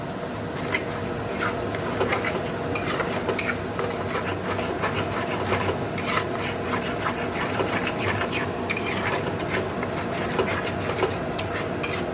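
A spoon stirs a pan of cooking food that has just been sweetened, making rapid, continuous scraping and clatter close by. A soft sizzle runs underneath, and there is no talking.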